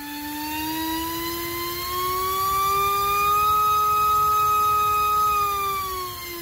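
A small 1104 brushless motor, rewound in star configuration, runs on test with a clean high-pitched whine that slowly rises in speed and then eases slightly, steady and close with no talk.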